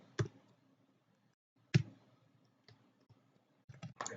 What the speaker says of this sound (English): problem with my keyboard